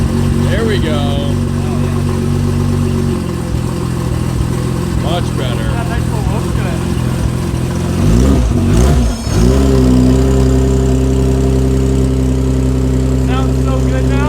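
Nissan R34 GTR with a 272 exhaust cam idles steadily with a loping, shaking rhythm and a brief blip, close and loud, while people talk over it.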